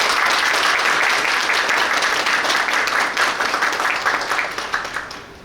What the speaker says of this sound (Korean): 박수 해주십니다.